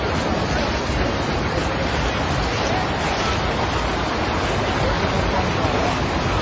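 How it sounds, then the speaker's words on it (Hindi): Floodwater rushes in Punjab after all dam gates were opened, flowing into homes; a dense, roaring wash of water holds steady and loud from start to finish. "पानी के ओवरफ्लो होने के कारण डैम के सभी गेट खोल दिए हैं"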